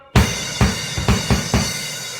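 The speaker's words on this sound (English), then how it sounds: "The bass drum." Five deep, booming bass drum hits from a Pearl Masters kit, alone and close, spaced unevenly with each thump ringing briefly before the next.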